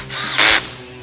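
A power tool driving screws into a recovery board mount, a short, close whirring burst rising over a low motor hum and then easing off, all within about a second.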